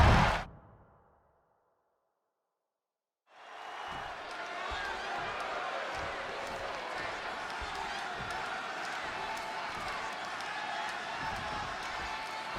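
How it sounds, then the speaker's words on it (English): A large Chicago arena crowd roars and cheers in the WWE 2K26 wrestling video game, starting after a brief hard hit and a few seconds of silence, then holding as a dense, steady wall of crowd noise with scattered claps. "And just listen to this crowd here in Chicago."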